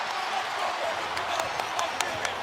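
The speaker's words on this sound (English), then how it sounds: "Crowd has been ignited as well." Loud, steady roar of a basketball arena crowd cheering during an NBA Finals game between the Spurs and Knicks, a dense wash of noise with sharp whistle-like peaks poking out near the end.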